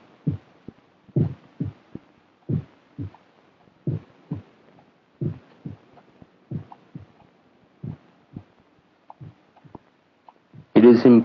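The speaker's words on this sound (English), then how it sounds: "For many minutes the heart beat on with a muffled sound." A muffled heartbeat sound effect pulses in slow, steady double thumps, deep and soft, repeating about a dozen times over near silence before a brief louder burst at the end.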